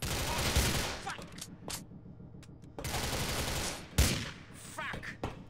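Gunfire in Grand Theft Auto IV, long loud bursts of rapid shots in sustained volleys with short gaps between them and a brief voice among them.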